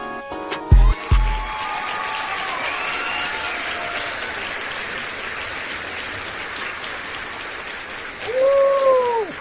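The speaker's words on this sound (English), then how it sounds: "Crowd is pumped." Sports show crowd noise: a broad, sustained roar of cheering and applause, loud and steady after a brief musical sting at the start, with a voice rising near the end.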